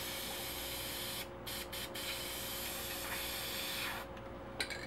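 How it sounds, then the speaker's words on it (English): Paint is flicked off a toothbrush for splatter painting, a continuous close, dry spraying hiss broken by a few brief gaps as the bristles are drawn and flicked, with no talking. "And basically just flick it on."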